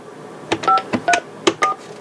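Touch-tone telephone keypad beeps as letters are keyed in on a phone line, five separate dual-tone presses in an uneven rhythm, clear and close, with no talking.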